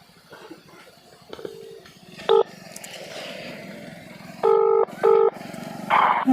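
Telephone keypad tones as a number is dialed for a call, a few short clear beeps spaced unevenly over faint background hum.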